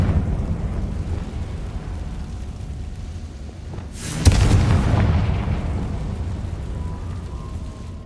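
A Confringo fire spell from Hogwarts Legacy bursts into a loud, sudden blast with a crackling, rumbling tail that fades slowly over steady low background rumble.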